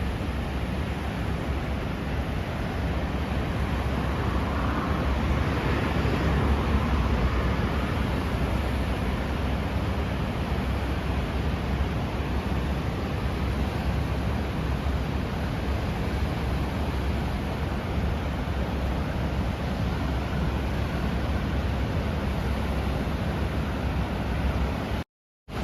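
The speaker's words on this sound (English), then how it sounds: "And we are now happy to see the waterfall." Waterfall at the Volkhov hydroelectric power plant in the Leningrad Region of Russia, a dense, constant roar of rushing water heard alone, broadband and unbroken, with no voices.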